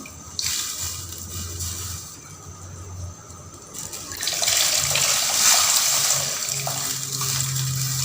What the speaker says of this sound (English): Put in the tamarind water.